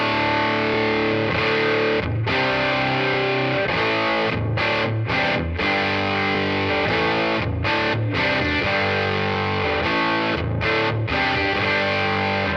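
Guitar played through a Tonex pedal with the gain cranked to 10, a heavily distorted, saturated tone of chugging chords with short rhythmic stops and choppy gaps, loud and upfront.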